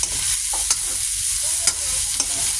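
Green chili being stirred into a sautéed mung bean dish, with a steady soft sizzle of frying and several sharp scraping clinks of the spoon against the pan, close and without talk.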